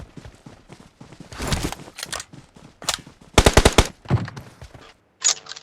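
Rapid gunshots from behind the players in a PUBG Mobile match crack in short clustered bursts, some sharp and close, others lighter, with brief pauses between volleys.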